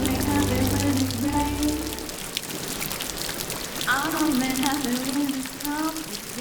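Steady patter of rain falling on water around a canoe near a ruined Victorian castle, a dense hiss of drops close by, with a faint low hum and brief voices now and then.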